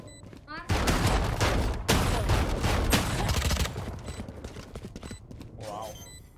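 Shotgun blasts and other gunfire from the video game Valorant come in bursts over busy game sounds, with a few sharp shots standing out.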